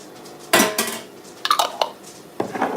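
Minced ginger in shallot oil goes into a pan for a quick stir fry, heard as a few close clanks and scrapes of a utensil against the pan, separated by brief pauses.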